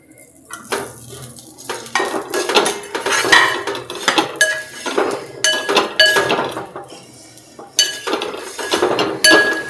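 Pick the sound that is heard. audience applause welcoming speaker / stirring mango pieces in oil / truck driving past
stirring mango pieces in oil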